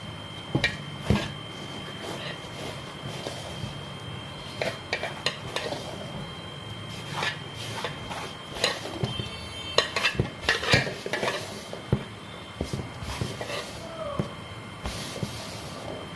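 Flour for mohanthal is roasted in a large pan and stirred with repeated scraping and knocking strokes, irregular in rhythm and moderately close, over a soft background hiss.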